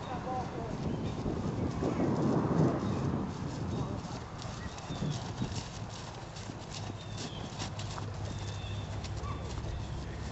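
Hooves of a tall Friesian horse clip-clop steadily on a hard surface, loudest early and then continuing in a softer rhythm, with birds faintly in the background and some low voices.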